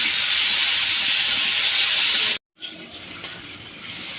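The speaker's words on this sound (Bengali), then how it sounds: "আলুগুলোকেও একই রকমভাবে নুন হলুদ দিয়ে হালকা করে ভেজে নেওয়া হলো।" Potatoes frying lightly in a pan with salt and turmeric, home village-style cooking, give a steady, fairly loud sizzling hiss. It cuts out abruptly for a split second, then resumes slightly quieter with faint clinks.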